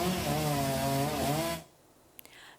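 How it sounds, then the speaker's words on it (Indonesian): A chainsaw cuts through a fallen tree trunk during a roadside clearing, a loud steady buzzing whine close by that cuts off abruptly, followed by a couple of faint knocks. "melakukan evakuasi dengan memotong batang pohon menggunakan gergaji mesin"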